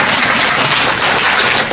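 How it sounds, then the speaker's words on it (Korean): Lecture audience applauding at a talk in a district office hall, dense steady clapping from many hands filling the whole moment, loud and close with no voices over it. "박수 치시죠."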